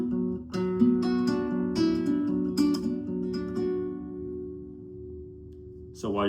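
Acoustic guitar chords plucked in the pattern of a song, ringing notes sustaining and fading, close and clear, with a brief noise at the end.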